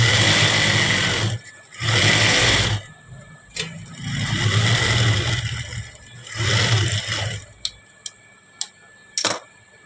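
Sewing machine stitching the side seam of a blouse in several bursts of fast, rattling whir, separated by pauses and a few sharp clicks near the end.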